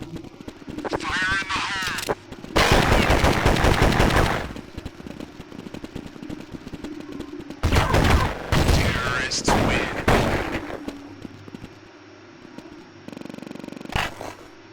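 Gunfire from the video game Counter-Strike 1.6 crackles in rapid bursts of shots, loud and close, broken by gaps where someone talks over the game sounds.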